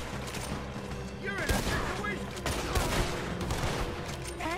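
Gunfire in Red Dead Redemption 2: repeated sharp gunshots and volleys crack out over a busy game soundscape, with players shouting in between.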